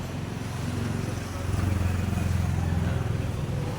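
Motorcycle engine droning nearby on a street beside a motor parts shop, rising in loudness midway as it passes, with a steady low rumble throughout.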